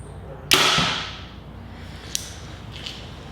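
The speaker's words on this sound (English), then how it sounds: "The bow makes a noise coming out." A Win and Win Atom X compound bow looses an arrow with one sharp, loud release and a whooshing decay, followed by two faint distant ticks of the arrow striking.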